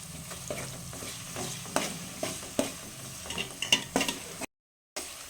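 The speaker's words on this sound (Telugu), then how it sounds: "కొద్దిసేపు మనం ఈ నూనెల్ని కలుపుకొని కొద్దిసేపు మంచిగా వేగేటట్టు చూసుకోవాలి." Ground ginger paste frying in hot oil for a village-style country chicken curry, a steady sizzle with repeated clinks and scrapes of a spoon stirring the pan, then a brief cut to silence.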